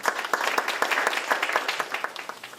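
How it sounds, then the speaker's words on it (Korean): An audience at a Seoul fine-dust policy forum claps for the deputy mayor. Dense, even applause runs through the whole moment, fairly close and steady. "뜨거운 박수 부탁드리겠습니다."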